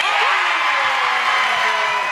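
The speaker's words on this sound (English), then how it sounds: "the crowd goes wild" A crowd at a school basketball game erupts into wild cheering, whoops and shrieking voices blending into a dense, loud, sustained roar, with high yells rising above it.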